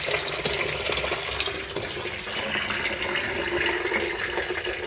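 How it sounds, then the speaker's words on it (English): Water rushes steadily into a toilet tank through a newly installed fill valve, a continuous close hiss of filling with no talk over it. "Once you get that done, water will start flowing."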